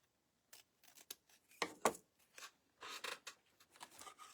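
Scissors snipping daffodil leaves for a bunny craft, a string of short crisp cuts in irregular rhythm, close and quiet.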